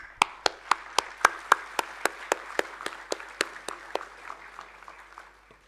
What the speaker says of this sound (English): you deserve one more round of applause